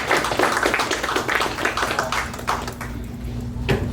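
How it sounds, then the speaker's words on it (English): A small group at a youth business and music seminar on Long Island claps in an uneven patter of hand claps, close and fairly loud, trailing off after a few seconds. "Clap it up for him for longevity"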